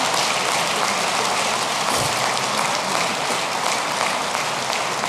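An audience at Alassane Ouattara's address to the nation gives sustained, dense applause, a steady hiss-like roar of many hands clapping that lasts several seconds without pause.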